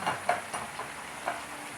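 Pork stir-fried in a hot pan as holy basil and sweet peppers are tossed in, with short scraping and sizzling bursts up close over a steady hiss and no talking.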